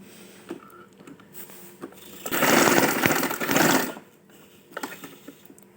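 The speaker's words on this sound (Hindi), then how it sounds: "बिल्कुल पेपर बुकरम के साथ साथ सिलाई लगाएंगे, पेपर बुकरम के ऊपर नहीं आने देंगे।" An electric sewing machine stitches a neck design on fabric along a paper buckram edge, a steady close whirring run of about two seconds in the middle, with quieter handling sounds before and after.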